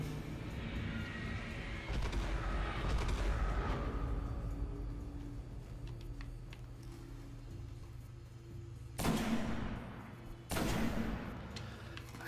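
Enemy fire in the shooter game Destiny comes as scattered distant blasts over a steady rumble, followed by two sharp, loud bursts near the end.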